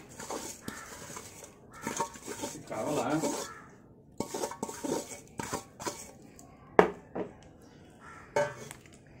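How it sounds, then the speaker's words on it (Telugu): Jaggery, ragi and coconut being mixed by hand in a bowl make scraping, rubbing bursts in an irregular rhythm, close up, with a few sharp knocks and someone speaking between them. "ఇప్పుడు ఈ బెల్లం అంతా ఇందులో వేసుకొని శుభ్రం మెత్తగా కలిపేసుకుందాం"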